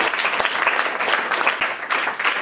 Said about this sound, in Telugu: అందరూ ఒకసారి క్లాప్స్ కొట్టండమ్మా